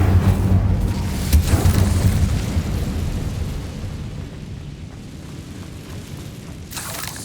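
A Bombarda explosion spell in the wizarding game Hogwarts Legacy, a heavy booming blast with rumbling debris that slowly fades, followed by a second sharp burst at the end.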